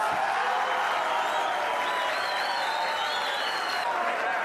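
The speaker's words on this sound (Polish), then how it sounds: "Proszę o klaski." Sustained applause from a crowd at a talent show, steady and dense throughout, with a faint tonal whistle or music line riding over it.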